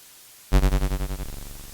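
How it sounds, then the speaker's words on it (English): A Nord Micro Modular synthesizer's percussion oscillator strikes abruptly, then pulses rapidly in a fast decaying rhythm, bright and close, fading into a quieter buzzing tail. "Now you can hear the percussion oscillator more clearly."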